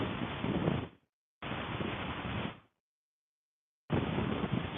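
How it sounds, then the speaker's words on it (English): Strong wind buffets the microphone in loud, rough gusts on a cold, overcast day, cutting out completely between blasts. "I'm sure you can tell, but it's a little windy."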